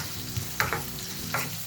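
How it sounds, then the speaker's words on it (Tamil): Onion, tomato, mint and coriander leaves sauté in a pan for a thick hotel-style salna, with a soft sizzle and a few scraping stir strokes, close and fairly quiet. "சேர்த்துட்டு நல்லா இதை வதக்கிக்கோங்க."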